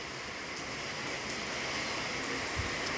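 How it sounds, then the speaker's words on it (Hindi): Rain falls as a soft, even hiss that holds steady throughout, fairly quiet, with no voices over it. "बहुत अच्छी बारिश हो रही है दोस्तों"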